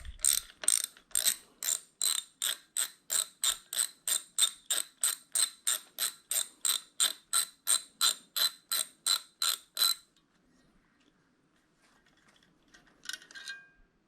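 Starter motor on an out-of-frame Kawasaki engine cranks in a rapid, even series of about twenty-five mechanical clicks over ten seconds, then stops, followed by faint handling noises.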